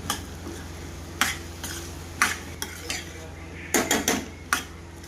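Soybean vadi being stirred with spices in a pan, a spoon scraping and clinking against the metal in irregular bursts over a faint background sizzle.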